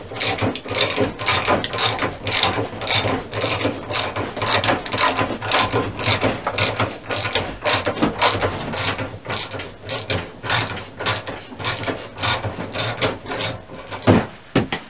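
A screw gun drives screws into a printer lift, a loud, continuous ratcheting whir with rhythmic mechanical clicking and grinding that lasts throughout, with no talking.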